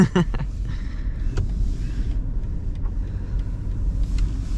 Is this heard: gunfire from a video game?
no